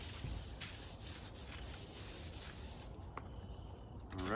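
Spice rub being worked by hand onto a brisket flat, a faint close soft rubbing and patting that continues steadily for a few seconds.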